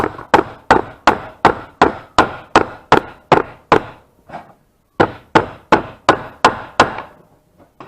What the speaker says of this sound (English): being able to hammer down on the back of it should straighten it out